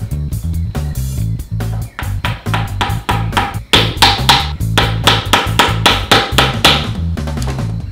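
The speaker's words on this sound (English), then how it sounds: "I'm going to square up the rounded ends of these slots left by the router using a square hole punch." A square hole punch is hammered to square the rounded ends of router-cut slots in wood for a desk, a rapid run of sharp, close, loud mallet taps over a steady low hum.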